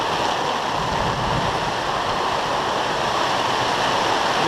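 Steady rushing, splashing water pouring through a fair-sized hole cut into a haunted house roof to drain collected rainwater, a continuous close-up wash with no pauses and no voices.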